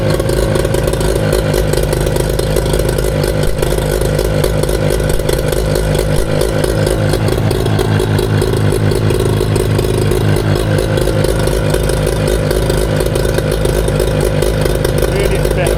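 A Mariner 25hp two-stroke outboard motor with a suspected impeller problem runs loud and close, a steady rapid clattering drone at constant idle throughout.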